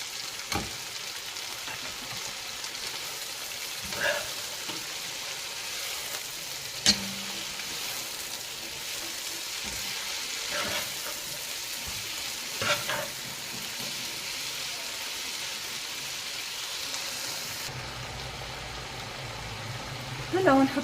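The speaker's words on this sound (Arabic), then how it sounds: "هون بنضيف السبانخ. طبعا بنضيفه على دفعات وبنقلب." Spinach frying in a pan as it is stirred, a continuous close sizzle broken by periodic scraping strokes and small knocks, with a louder clatter near the end.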